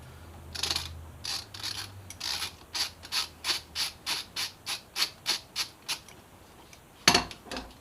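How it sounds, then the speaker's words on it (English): A ratchet loosens the top fork bolt on a Yamaha FZ6R front end, a close series of about a dozen crisp rhythmic clicking strokes followed by a louder final clack. "now let's undo the top bolt"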